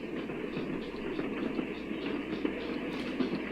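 Steady train rumble on rails, a continuous mid-low roar with faint rhythmic clatter throughout, as heard from inside a moving railway carriage.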